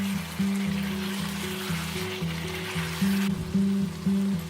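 Ground spices, coriander and cumin powder among them, sizzling and frying steadily in hot oil in a pan, a close, continuous crackle with faint rhythmic stirring scrapes and no talk.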